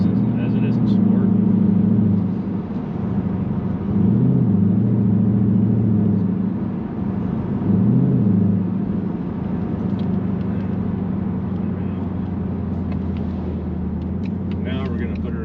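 A Ford Mustang GT with a 10-speed automatic, driven in its normal Drive mode, gives a loud, steady low engine drone from inside the car, with two brief rising and falling rev swells as it shifts gears.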